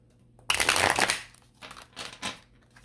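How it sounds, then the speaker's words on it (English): Tarot cards from an Enchanted Romance deck being shuffled by hand, with one loud extended riffle of rapid papery flutter followed by two shorter, softer shuffles, close and with no talking. "This is a live shuffling."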